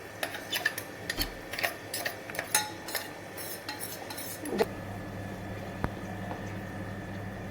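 A spoon scrapes and taps as ground roasted chickpea (sattu) powder is scooped from a mixer jar into a bowl, giving a string of light clinks and scrapes close by with no talking.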